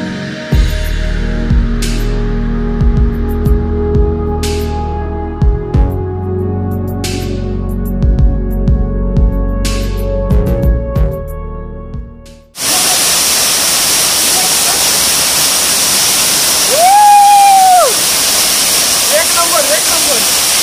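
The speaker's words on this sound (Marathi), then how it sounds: "तर पाणी मस्त पडतंय एकदम स्पीडने" A forest stream waterfall in rural Konkan pours at high speed in a loud, steady rushing roar for the second half; before that a separate stretch of tonal hum with sharp clicks, and a brief voice-like sound rises over the roar.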